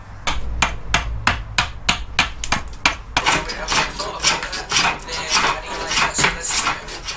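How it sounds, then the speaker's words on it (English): Wood is worked off the belly of a yew longbow: a run of sharp, evenly spaced knocks, then a busier stretch of scraping and tapping, close and fairly loud. "I'm now going to carefully take wood off the belly of the bow so that it tapers towards the ends."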